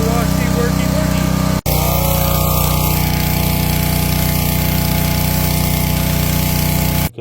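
A PowerSmart 3200 PSI gas pressure washer with a 208 cc four-stroke engine runs steadily nearby, a loud, even drone with a short cut midway, while a voice talks over it.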